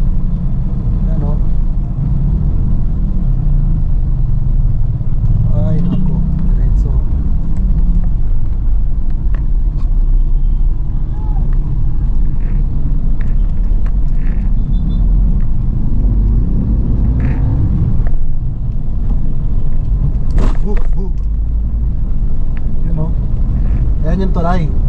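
Loud, constant street traffic on a Makati City road in the Philippines, cars and motorcycles rumbling close by with engines droning and an occasional horn, while someone talks over it throughout.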